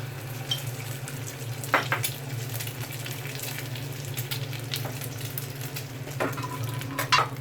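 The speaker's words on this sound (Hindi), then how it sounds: "दूसरी को फ्राई करेंगे।" A shami burger patty fries in a pan with steady low sizzling, and now and then a utensil scrapes or taps the pan.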